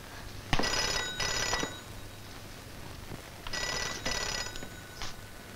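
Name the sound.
telephone ringing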